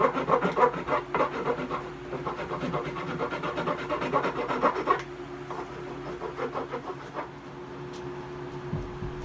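Rasps and chisels shape a wooden shillelagh, giving rapid rhythmic scraping strokes that are loud at first, then lighter and sparser.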